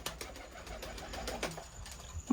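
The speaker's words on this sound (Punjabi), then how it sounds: "ਉਹ ਟੋਕਰੀ ਦੇ ਵਿੱਚ ਉਹ ਜੋੜਾ ਕਿਵੇਂ ਵੜ ਰਿਹਾ ਕਬੂਤਰਾਂ ਦਾ" Soft, low pigeon cooing repeats a few times in a quiet space, faint and fairly close, with a short louder burst at the end.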